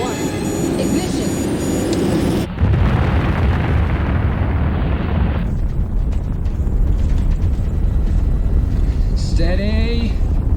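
A sci-fi spacecraft engine ignites with a sudden loud roaring burst, then a sustained heavy rumbling burn with rushing noise, ending in fluttering electronic tones.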